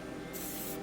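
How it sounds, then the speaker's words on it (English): A spray can hisses a base coat onto Rat Ogre miniatures in one short, close burst of airy spray that starts partway through and cuts off just before the end. "time spraying just to get the base down on these Rat Ogres"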